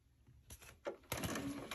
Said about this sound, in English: I am going to do a test print.